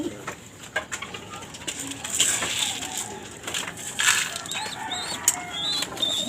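Pigeons in a loft coo and stir amid busy rustling and scattered wing flaps, with bright chirps overhead; the birds sound close and the activity is steady throughout.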